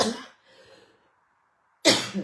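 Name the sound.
cough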